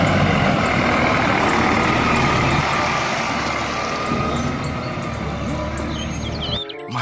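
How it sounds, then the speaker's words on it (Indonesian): A garbage truck's engine rumbles steadily nearby, with a hiss of air brakes and mechanical clanks toward the end. "Wow, mobil truk sampah."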